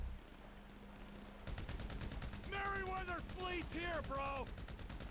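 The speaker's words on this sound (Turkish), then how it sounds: "Uuu silah sesleri duyduk o yüzden şuna geçelim." Rapid bursts of GTA V gunfire start after a quiet moment and keep rattling on, with game voices calling out over the shots.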